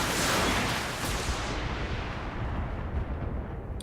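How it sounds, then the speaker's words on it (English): A mech in the Battletech video game firing all its weapons at once, a loud, rushing roar of explosive blasts that fades and settles into a dense, rumbling tail. "Firing everything I've got."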